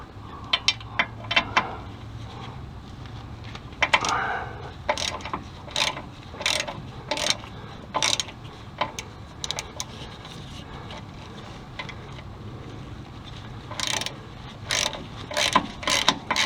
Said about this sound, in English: gonna get a ratchet for this side.